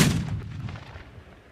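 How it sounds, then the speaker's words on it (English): Distant cannon fire in an outdoor survival-game setting: a single deep boom with a long, rumbling decay fading over about a second and a half, heard alone. "5 cannon shots can be heard in the distance"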